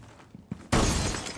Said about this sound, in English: it's good to break glass off windows